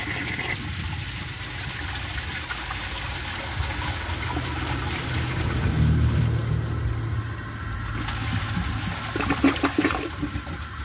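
A 1990 American Standard Cadet toilet flushes a washcloth and a grocery bag, a loud rushing flush that swells and churns for several seconds, then gurgles and refills, heard up close with no talking.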